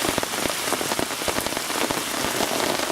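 Heavy rain pounds a hard surface beside a river in a dense, steady roar of countless drops, loud and close, with no voices.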